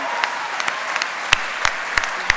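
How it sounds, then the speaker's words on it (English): An audience at the 2013 Make-A-Wish Michigan WAMmy Awards ceremony applauds elite fundraisers, a steady bed of clapping with sharper individual claps popping out irregularly, moderately loud and without speech. "Let's have a big round of applause for our"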